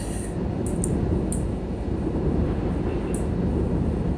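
A BR 181.2 multi-system electric locomotive runs along the Moselle valley in a railway simulator, giving a steady low rumble with a few faint high squeaks or hisses.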